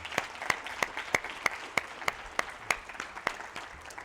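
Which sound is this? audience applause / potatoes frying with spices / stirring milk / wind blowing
audience applause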